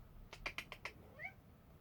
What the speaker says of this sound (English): Look at this kitty.